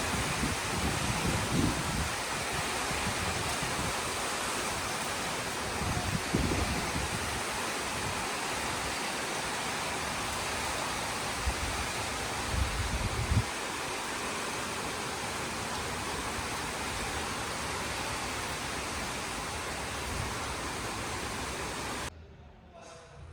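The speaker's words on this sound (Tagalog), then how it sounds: "Malakas yung hangin." Strong wind during a heavy rainstorm roars steadily as a dense broadband rush with gusty low rumbles, continuous for most of the clip before cutting off near the end.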